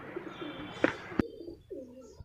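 Soft, low pigeon coos rise and fall near the end, after a sharp click and a brief thump, with faint chirps in a quiet background.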